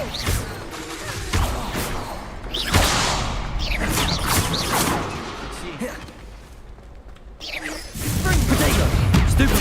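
Magic combat in Hogwarts Legacy with the Confringo blasting spell, loud booming impacts and whooshing bursts in quick succession, punchy and close, a voice shouting spell names in between.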